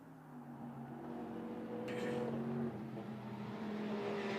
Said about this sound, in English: onto the Camel Straight goes the 438 Simpson Motorsport BMW in its all-white